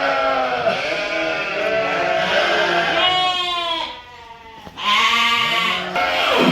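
Dorper sheep bleat loudly while waiting for feed, several overlapping drawn-out calls from a nearby flock, one after another with a brief quieter gap between.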